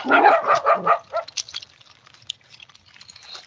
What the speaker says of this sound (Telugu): ఫ్రెండ్స్ ఇప్పుడు ఇక్కడ కుక్కలు ఉన్నాయి అన్నమాట